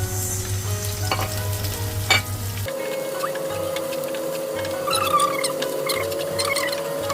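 Onion is fried in a pan for corn soup with moringa, giving a close, steady sizzle and crackle with light scraping from stirring, continuous throughout with a low hum beneath.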